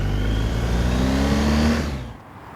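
A motorcycle engine hums steadily and rises slightly as the bike pulls away from a stop, then fades out at the end; no talk.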